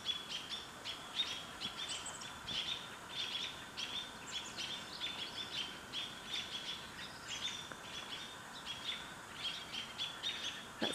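Small birds chirp repeatedly in sharp, bright calls at an owl, probably near a ravine with cedar trees, the calls coming in steady bursts over faint outdoor background with no talking.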